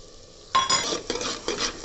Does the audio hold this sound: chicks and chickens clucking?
no